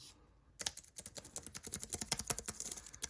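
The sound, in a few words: typing on Logitech MX Keys keyboard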